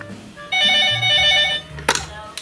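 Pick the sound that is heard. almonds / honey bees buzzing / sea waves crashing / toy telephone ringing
toy telephone ringing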